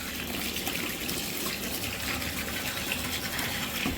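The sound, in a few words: bathtub filling with clean water from tap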